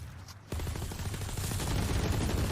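Gunfire in Valorant as a player sprays through smokes, rapid automatic bursts rattling close and loud, then continuing in a dense, steady stream.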